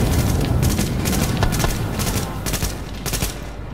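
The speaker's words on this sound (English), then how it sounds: "Just my assault rifle there, taken almost an entire clip, not even killing the person" Sustained assault rifle fire in The Division, a dense burst of rapid shots with booming low end running throughout, loud and close with no talking.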